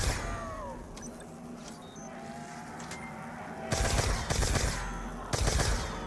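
Pack-a-Punched Mark II firing in Black Ops 2 zombies, two loud bursts of rapid automatic fire over a low game ambience, the second burst shorter and at the end.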